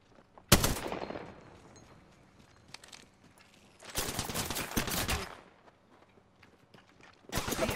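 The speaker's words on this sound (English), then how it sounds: "Shooting at me" Gunfire from the Apex Legends video game comes in loud bursts: a sharp shot, then a sustained rapid volley a few seconds later, and another burst at the end, with quieter game ambience in between.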